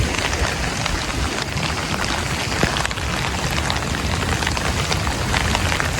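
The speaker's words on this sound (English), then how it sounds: "And this rain's not gonna stop until 5." Heavy rain pours down in a dense, constant hiss and patter, loud and unbroken throughout.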